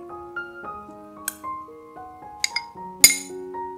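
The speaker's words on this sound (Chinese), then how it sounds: "和水，用汤匙搅拌均匀。" A spoon clinks and taps against a bowl while mixing flour, kimchi and water, giving a handful of bright ringing chinks with soft scraping between them, close and quiet.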